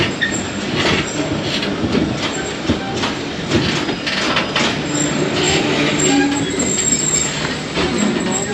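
A passenger train rolls into Jhelum station in Pakistan with a loud, steady rumble of wheels on rails, rhythmic clacks over the joints and thin metallic squeals from braking as it draws to a stop.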